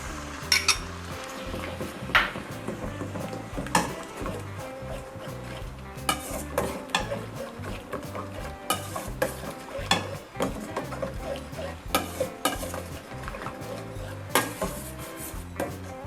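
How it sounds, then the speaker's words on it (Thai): A utensil stirs coconut milk simmering with shrimp fat in a pot, producing steady, close clinks and scrapes against the metal at an irregular rhythm throughout, with no one talking. "เราเคี่ยวแค่ให้พอกะทิเดือดนะคะ เราจะไม่ให้กะทิแตกมันนะคะ แล้วเราจะใส่มันกุ้งลงไปค่"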